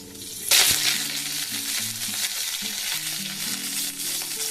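Nigella seeds, a dried red chili, dal and curry leaves crackle and sizzle in hot oil, a loud spattering burst early on easing into a steady frying hiss while a faint tune plays underneath.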